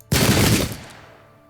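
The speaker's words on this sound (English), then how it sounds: "I'm going to turn towards the enemy and fire." A musket volley erupts in the Pike and Shot Campaigns battle game, with one loud, close crack of massed fire that rolls and fades over about a second.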